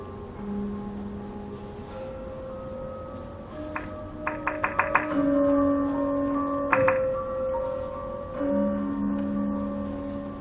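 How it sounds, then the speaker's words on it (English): Gentle Javanese music from Solo, Central Java, with sustained gong-like tones and a brief run of bright metallic strikes, unhurried and mellow, with no voices. "What you're hearing now is Javanese music from the central chord of solo."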